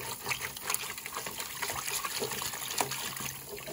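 Water runs steadily from a tap as a cockroach colony's small water dish is rinsed, a soft continuous splashing trickle heard fairly faintly and alone.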